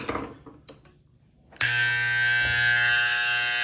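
After a few soft handling clicks, an Andis T-Outliner hair trimmer fitted with a replaced blade switches on. It settles into a loud, steady, high-pitched electric buzz held close by.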